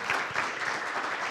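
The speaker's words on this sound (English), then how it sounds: "let's give our panelists a round of applause" Audience applause for a panel at an educators' session, a brief burst of steady clapping from a crowd, moderately loud.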